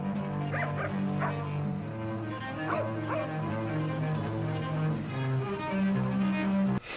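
A street dog near a bonfire gives soft whimpers and a few high yips, faint over a steady hum of outdoor background noise, with no talk.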